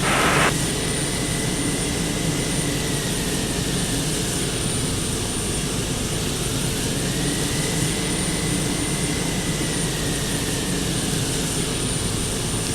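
Boeing 727 jet engines idling while taxiing in a flight simulator game, a loud constant roar with a high whine that slowly dips and rises again, continuous and close throughout with no speech.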